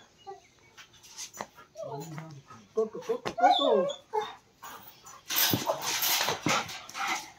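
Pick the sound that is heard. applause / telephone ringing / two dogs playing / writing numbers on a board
two dogs playing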